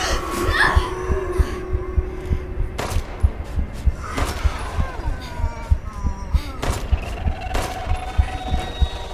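A small pistol in Resident Evil Village fires several sharp gunshots, spaced a second or two apart, over a low droning game soundtrack.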